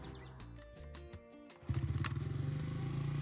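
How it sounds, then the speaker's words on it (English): A Honda CRF 50F motorcycle's small engine struggles to hold a steady idle, sputtering unevenly before picking up into a louder, rhythmic pulsing run close by. "So it seems to be having trouble settling in on an idle that it's happy with."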